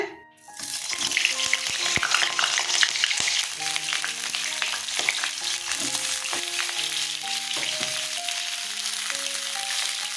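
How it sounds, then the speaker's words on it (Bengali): Pieces of pointed gourd (potol) drop into hot oil and fry with a loud, steady, close sizzle that holds throughout, with small clinks and spatters. "তেলটা গরম হয়ে গেছে আমি পটলগুলো ছেড়ে দিচ্ছি"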